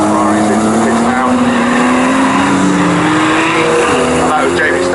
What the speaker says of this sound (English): Here comes one of the Ferraris into the pits now.